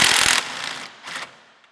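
A ratchet wrench works a 13 mm bolt on the engine of a B7 Audi A4: a quick burst of close clicking ratchet strokes, then a fainter second rattle of clicks.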